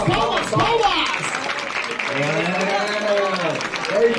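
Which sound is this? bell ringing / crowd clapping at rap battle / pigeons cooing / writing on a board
crowd clapping at rap battle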